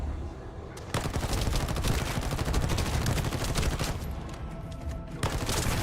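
A rifle in The First Descendant fires rapid, sustained automatic bursts, loud and close, with brief gaps between volleys and no talk over it.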